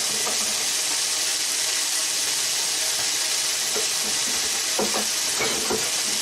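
Funyuns dropped into a hot frying pan give a continuous loud sizzle and hiss, with a few faint clicks and scrapes of stirring under it.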